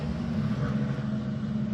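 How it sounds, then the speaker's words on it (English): Ferrari 296 Challenge race cars roll toward the grid at Watkins Glen, a continuous low engine drone and rumble holding steady throughout without distinct revving or pauses. "That is the sound of Ferrari 296 making their way to the grid here at Watkins Glen."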